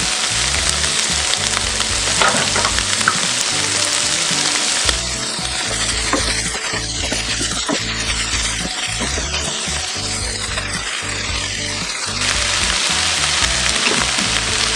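Bacon, minced garlic and Swiss chard sizzle loudly and steadily in a pan, a dense continuous fry with occasional stirring scrapes, close and without any talk.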